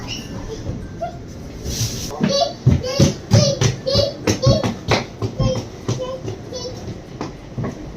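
A train runs along the world's longest pier at a seaside beach near London. It makes a rhythmic rattling clatter close by, with children and other people talking over it.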